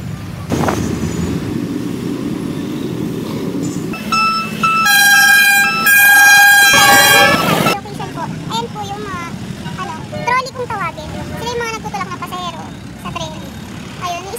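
A jeepney pulls up and sounds its horn in long loud blasts in the rain, with rumbling engine noise before and after, followed by people chattering nearby.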